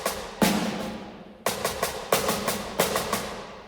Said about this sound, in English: And then we're gonna have the snares.